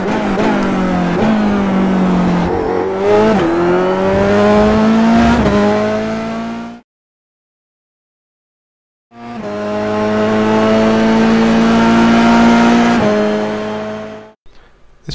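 A race car at Spa in a racing video game accelerates hard out of a corner, its engine screaming up through the gears with rising whine and shifts, cutting out briefly before roaring back loud and close, with no talk.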